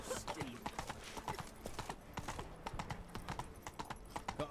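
Roach the horse gallops in The Witcher 3, hooves drumming in a quick steady clip-clop rhythm close by, with a brief whinny and game sounds mixed in.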